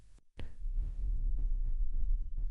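Heartbeat sound effect of a pounding heart, low deep thuds throbbing under a steady hum after a brief silence, rhythmic and close.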